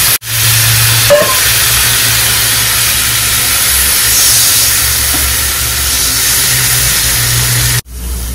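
Spices sizzle in a cooking pan with a little water added while a fish and pumpkin-leaf dish is prepared, giving a loud, steady hiss that fills the clip and cuts off briefly near the end.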